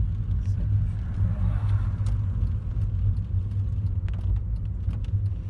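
A car interior during a driving lesson as the car slows and pulls over to the kerb, a steady low engine and road rumble with faint clicks and small rattles, no clear talk.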